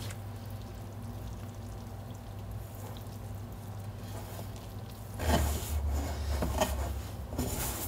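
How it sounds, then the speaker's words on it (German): Dissolved yeast mixture is tipped in one go onto flour, a quiet wet pour and slosh arriving after several seconds of soft background rustle, followed by light stirring and scraping. "Ich rühre das noch einmal um und gebe das jetzt in einem Schwung auf das Mehl."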